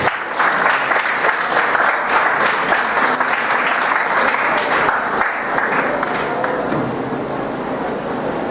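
Loud, full applause from a conference audience at a Japanese-Philippine urban redevelopment event, continuous dense clapping that holds for several seconds and tapers slightly toward the end.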